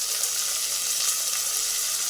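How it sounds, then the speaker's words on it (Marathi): Cauliflower and potato pieces fry in hot oil with a steady, close, bright sizzle that hisses evenly throughout, no voices present. "हे टाकून घ्यायचं आणि तेलामध्ये त्याला फ्राय होऊ द्यायचं।"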